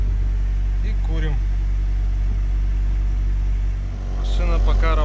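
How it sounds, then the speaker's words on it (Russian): A GAZ 31105 fitted with a Chrysler engine runs steadily near 1400 rpm while a decarbonizing flush is fed through it, giving a constant low drone, with someone talking over it. "Машина пока работает, только завели с промывкой"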